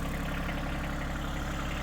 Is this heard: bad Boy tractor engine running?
yes